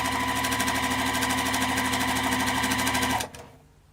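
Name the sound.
sewing machine stitching fabric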